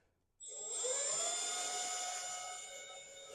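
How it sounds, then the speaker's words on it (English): A power drill runs steadily while assembling a Camp Chef XXL Pro smoker, starting abruptly and holding a loud, constant whine with no talk. "you can use a screwdriver, but when you're limited on time, a drill works a little bit quicker"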